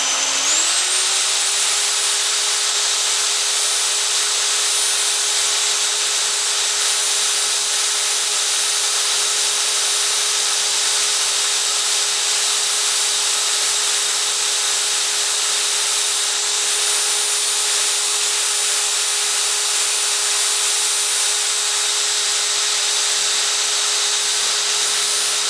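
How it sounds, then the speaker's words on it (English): Big electric mixer churning donuts broken up in a little heated water in a 1-gallon batch, a loud steady motor whine running unchanged the whole time after a quick spin-up at the start, with no talk. "it works better if you put a little bit of water and use the bigger mixer"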